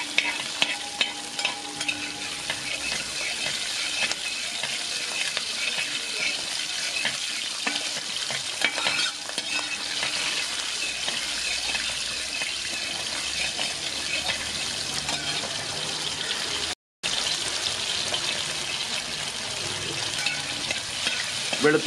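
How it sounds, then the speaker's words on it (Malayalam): Onion and garlic sizzling steadily in hot oil in a pan while being sautéed for Kerala-style sadya sambar, a continuous close crackling hiss with occasional stirring, no talk. "ഉള്ളിയും വെളുത്തുള്ളിയും കൂടെ ഒരു 2 മിനിറ്റ് ഒന്ന് വഴറ്റിയതിന് ശേഷം"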